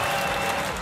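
Studio audience applause on a Russian football talk show, a steady, dense burst of clapping that fills the whole moment with no voices over it.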